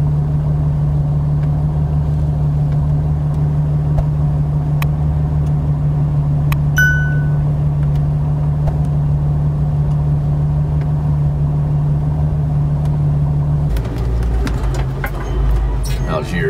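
A Jeep Wrangler engine drones steadily at close range as the vehicle rolls over rough ground, with brief knocks and rattles, then a heavier rumble and clatter of jolts near the end.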